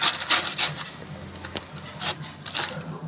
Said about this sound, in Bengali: আমি এইভাবে ফুলকপিটা ঘষে নিচ্ছি।